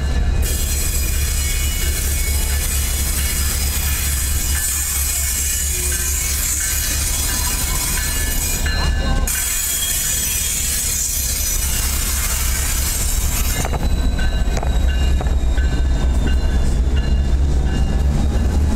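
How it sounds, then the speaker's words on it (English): An NS SD60E and a CSX ES44AH diesel locomotive run together at the Spencer museum in North Carolina, a loud, close, sustained rumble and rolling rail noise with squealing wheels and passing clatter throughout. "We got this NS911 and the CSX911 running together here at the Spencer Museum in Spencer,"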